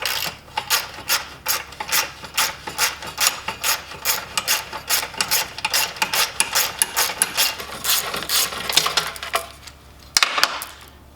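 A ratchet wrench backs 10 mm bolts off a rolled Chevrolet Silverado pickup during a teardown, giving steady rapid bursts of close, loud clicking with no talk, then a brief clunk near the end.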